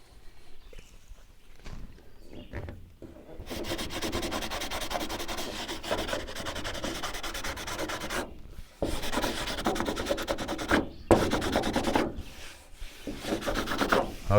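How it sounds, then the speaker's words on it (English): A squeegee rubs over a new sign on a darkroom trailer in long, steady scraping strokes, loud and close, separated by short pauses and a few softer handling sounds before the strokes. "Now I'm going to take out my my squeegee here."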